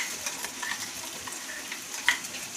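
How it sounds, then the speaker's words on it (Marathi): Ground masala paste is sautéed in oil for misal, giving a soft, steady hiss with scattered small crackles and one sharper pop near the end. "आणि छान परतून घ्यायचं याला"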